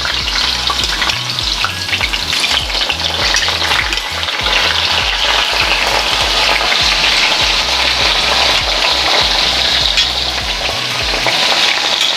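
Salted potato slices frying in hot oil, a loud, dense and continuous crackling sizzle heard up close, steady throughout without any talk.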